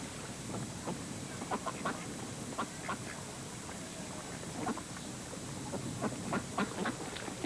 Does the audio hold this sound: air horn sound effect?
no